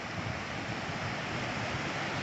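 Floodwater from heavy, continuous rain in Rajasthan rushes fast through a flooded area, making a dense, steady roar with no breaks, fairly loud and alone with no voices.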